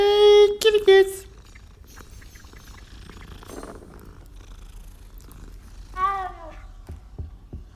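A cat in the Hogwarts Legacy video game gives a loud, bright meow near the start, then a softer second meow a few seconds later, with quiet game ambience between.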